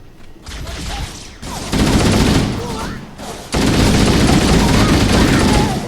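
Gunfire in Halo CE Anniversary: dense, continuous bursts of automatic weapon fire that swell louder midway and stay heavy to the end, with a voice calling out briefly over the shooting.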